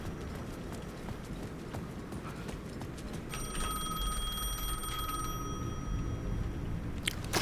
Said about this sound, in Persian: تلفن دوباره داره زنگ میخوره.